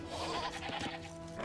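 Sheep in the strategy game Age of Empires 2 bleat in a continuous wavering cry over steady game background sound, close and clear, with no talk over it.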